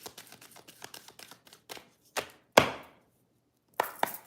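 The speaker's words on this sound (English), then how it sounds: "Anything else from this deck? Last shuffle." A deck of playing cards being shuffled during a card reading, heard as a run of quick, close riffling bursts, a short pause, then a sharp snap of cards and a final flurry.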